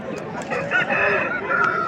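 A rooster at a Vijayawada poultry market gives short throaty clucks and calls close by over a busy murmur of other birds and market noise.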